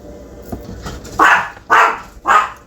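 A dog barks on alert, a few soft huffs giving way to three loud, close barks spaced about half a second apart in a kitchen setting.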